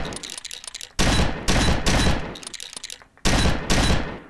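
Allied SMG 26-40 submachine gun firing in the Gun Club VR game, three loud, sharp bursts of rapid automatic shots, each lasting about half a second, separated by short quiet gaps.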